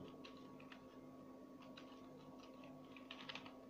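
Quiet, steady clicking of typing on a computer keyboard while entering HTML code, with scattered keystroke bursts over a low electrical hum and no speech.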